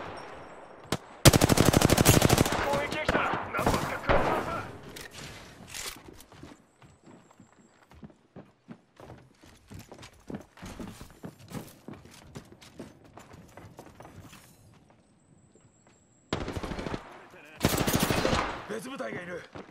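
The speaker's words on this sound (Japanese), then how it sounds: "射撃開始。" Gunfire in the video game Apex Legends bursts loud and rapid near the start, thins to scattered single shots and footsteps, then returns as another heavy burst; speech can be heard in places.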